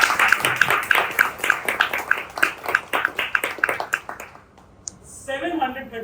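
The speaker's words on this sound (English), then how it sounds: "Can we have the applause going for our very wonderful Toastmasters of the day?" A room of people claps for a Toastmasters speaker, a brisk patter of hands that fades after about four seconds, followed by a short stretch of speaking.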